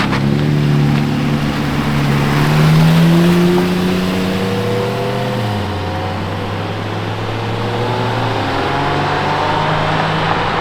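A Lamborghini Murcielago V12 engine at an exclusive Lamborghini event revs loud and near, its pitch climbing and falling in smooth sweeps over a steady rumble, with no voices.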